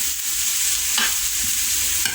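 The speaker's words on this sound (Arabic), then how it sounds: "دابا غادي نزيد خيزو والقرعه، نبقى نسخن في التحله" Carrots and pumpkin sizzle in a hot pan with onion and peppers, a soft continuous frying hiss broken by a couple of brief stirring scrapes.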